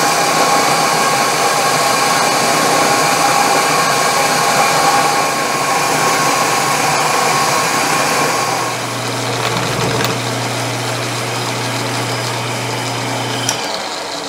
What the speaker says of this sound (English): I want to drill a through hole about 1/8 inch up, just to hold those springs.